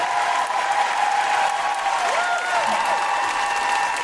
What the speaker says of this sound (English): A big round of applause for our incredible cast and yourselves